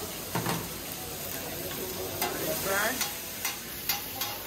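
Greens, green onion and garlic fry in a pan with a steady sizzle, broken by several sharp clinks and scrapes of stirring utensils against the pan.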